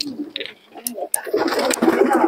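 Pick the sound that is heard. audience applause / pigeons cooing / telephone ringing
pigeons cooing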